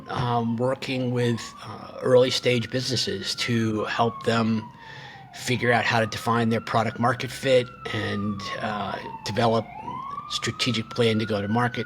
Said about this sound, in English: I don't know if you hear those sirens in the background.